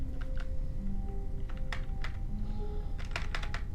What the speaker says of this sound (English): You probably hear the clicking of my fucking keys louder than what you hear my fans